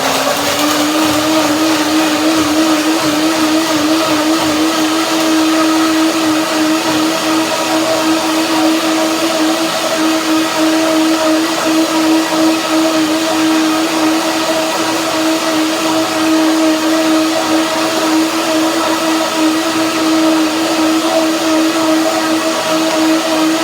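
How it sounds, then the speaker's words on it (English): A blender purees spinach curry cream sauce with a loud, steady motor whine and churning roar that holds unbroken at close range throughout. "Now blender dance."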